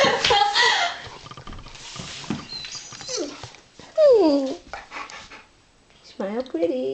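A puppy named Rosie whimpers, yips and makes whiny, almost word-like vocalizations in short bursts, close by, with people talking in between.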